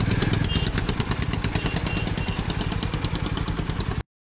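A 2025 Harley-Davidson X440 motorcycle riding in first gear, its single-cylinder engine thumping in a fast, even pulse with clattering mechanical texture, loud and close from start to an abrupt stop.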